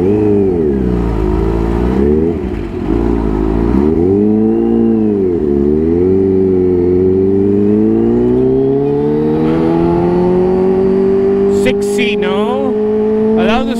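A Kawasaki Ninja H2 motorcycle ridden through heavy traffic, its engine loud and close, revving up and down in wavering pitch before a long steady climb as it accelerates, with other traffic noise behind.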